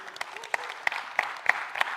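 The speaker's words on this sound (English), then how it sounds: "You can clap louder also." Light applause from a conference audience at an export event: scattered, sparse claps with distinct sharp hits rather than a dense roar, moderately near and fairly quiet.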